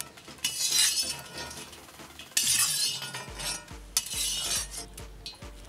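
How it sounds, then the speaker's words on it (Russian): Hot oil crackles and hisses in a kazan while Uzbek mastava soup is being made, rising in several loud, spitting bursts between quieter moments, mixed with metallic clinks and scraping. "Масло, слышно, накалилось."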